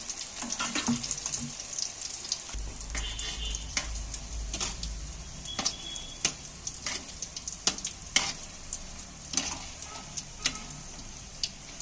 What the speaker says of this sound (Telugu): ఇలా కొంచెం గోల్డెన్ రంగు వచ్చేంత వరకు వేగనిస్తే చాలు